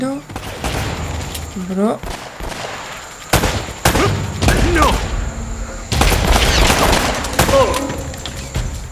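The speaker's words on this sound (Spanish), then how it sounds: "A ver, me están disparando, tío." Gunfire in a video game: sharp shots and bursts crack loudly and close, mixed with game effects, while a player talks over the action.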